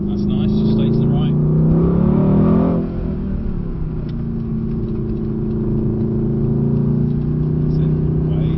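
A Mercedes AMG GT engine drones steadily on a skid pan and handling track, its tone shifting as it comes back on throttle, with an instructor talking over it.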